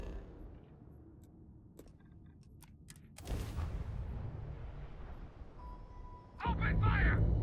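Gunfire erupts in a Starfield firefight, a burst of loud broadband shots swelling after a few seconds of quieter ambience, then heavier blasts near the end with a tone and other game effects mixed in.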